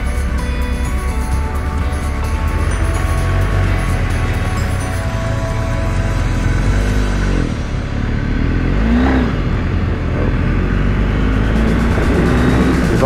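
Triumph Tiger and BMW big-trail motorcycles, including a 650 and a 1250, ride off-road along the western Ceará coast. Their engines make a loud, continuous drone with rising revs throughout.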